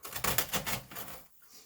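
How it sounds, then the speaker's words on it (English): Wire cutters and scissors snip through wire on a DIY Christmas centerpiece, giving a brief run of crisp, rapid clicking cuts close by that fades after about a second. "Cut it with the wire cutters and cut it with the scissors so that it sits down in there further."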